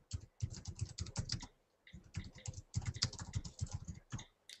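Rapid, continuous typing on a computer keyboard, close and crisp, in two long runs of keystrokes separated by a brief pause, with no voices over it.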